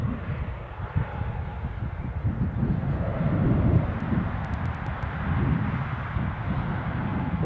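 A British Airways airliner taxiing or departing at Newcastle airport gives a steady, broad rumbling engine roar at a moderate distance, swelling slightly midway, with faint wind buffeting.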